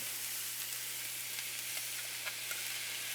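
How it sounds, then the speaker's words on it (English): Onions and garlic frying in a pan, a steady bright sizzle heard close up with a few faint stirring ticks. "I'm just going to fry up some onions, garlic"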